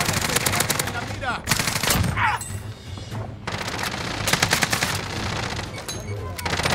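Rapid bursts of automatic gunfire crackle loudly in Call of Duty: Warzone, in repeated volleys separated by brief pauses, with a dense steady background.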